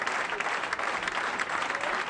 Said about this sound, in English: And the crowd salute.